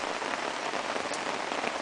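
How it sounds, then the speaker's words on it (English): Heavy rain pours onto a tarp in a steady, dense hiss with no pauses, loud and close overhead, with no voices. "it's absolutely chucking it down with rain"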